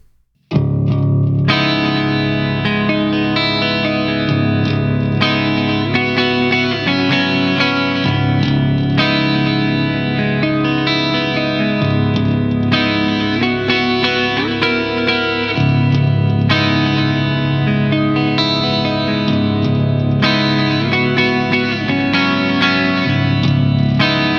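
Heavily distorted Schecter Damien Platinum 9 nine-string electric guitar playing thick, chugging low riffs with sustained chords, loud and continuous with only brief gaps between phrases.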